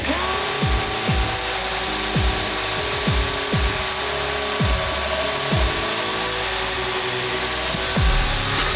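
An angle grinder whines loudly and close up with a steady high pitch while repairing a stock car engine. It bogs down repeatedly in a regular rhythm as it bites into metal.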